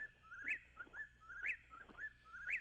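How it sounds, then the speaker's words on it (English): A Chuck-will's-widow repeats a rhythmic three-part whistled call about once a second, clear and fairly close against a quiet night background. "So that bird is a Chuck Will's Widow."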